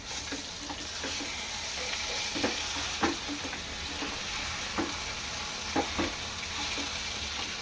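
Stuffed eggplant masala frying in a pan, a steady close sizzle with scattered clicks and scrapes of stirring, no voices.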